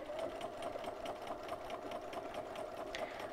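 A sewing machine running steadily during free motion quilting, fabric moved by hand under the needle; a fast even mechanical chatter of the stitching, close and continuous with no talk.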